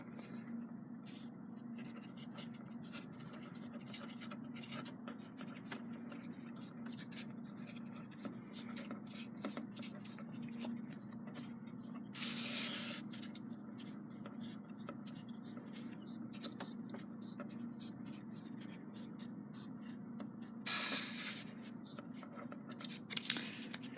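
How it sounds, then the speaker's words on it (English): Construction paper rolled tightly around a pencil while making a DIY bee hotel: steady close-up rustling and dry scraping of paper, with a few louder crinkling bursts. "roll it really tight around the pencil"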